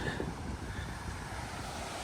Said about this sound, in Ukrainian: Сьогодні океан спокійний.